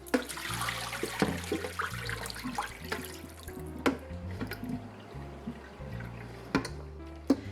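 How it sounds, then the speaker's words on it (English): Rinse water is poured off oxtail, sloshing and draining away in uneven gurgles, with occasional sharp drips and knocks, close by and with no talking. "so then I'm going to pour that water off."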